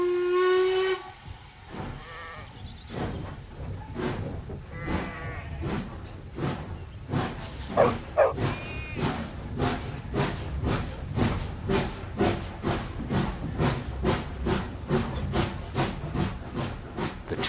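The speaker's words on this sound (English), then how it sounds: "The train puffs along." A steam whistle shrieks briefly, then a steam locomotive chuffs in a steady, quickening rhythm of hissing puffs, loud and close.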